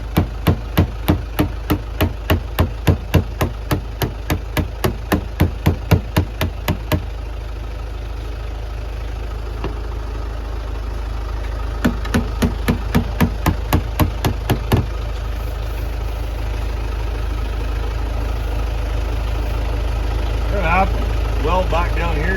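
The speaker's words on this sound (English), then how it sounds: "I'm gonna just give that a whack" A body hammer raps rapidly on car metal in two quick bursts of many evenly spaced strikes, with a low engine-like rumble running throughout.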